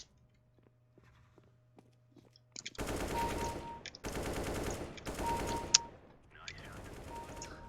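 Gunfire from the shooter game CrossFire: after a quiet start with faint clicks, several rapid automatic bursts rattle out in close succession, separated by brief gaps, loud and near.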